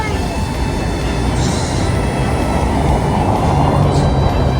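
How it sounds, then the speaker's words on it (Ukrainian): A city tram pulls away from a street stop, a loud steady rumble and rail noise that holds for several seconds and fills the scene with no pause. "поїхав наш трамвай"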